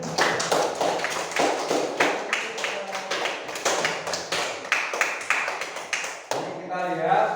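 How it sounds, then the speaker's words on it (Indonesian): A small class of students claps in quick, uneven bursts for a classmate during a school coaching session, fairly close, with a voice talking briefly near the end. "tepuk tangan buat Abbas ya"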